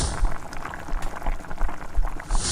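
A tea-pouring sound effect: a steady, bubbling stream of liquid that runs unbroken for a couple of seconds at moderate loudness, with no voices.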